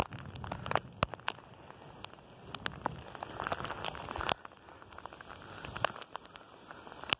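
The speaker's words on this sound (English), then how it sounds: "Very wet, horrible around Gorza Park today. And very hailstones as well, very dangerous." Hail and heavy rain in a severe storm around a park, irregular sharp ticks and clatters of hailstones striking surfaces scattered over a soft wash of rainfall, fairly faint overall with no talking.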